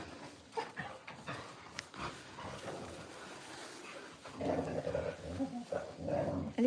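A livestock guard dog puppy growls and snarls in play outdoors in snow, the rough growls rising louder toward the end amid soft ambient noise.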